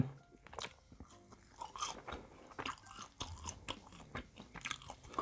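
Crunchy bites and close-up chewing of a deep-fried tomato sauce snack, with repeated crisp crunches and moist mouth sounds in an irregular rhythm.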